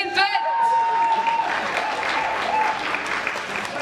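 Audience applause rings out for the winner of a talent contest, Stjerneskuddet 2015, dense clapping throughout with a steady tone and a voice briefly audible at the start.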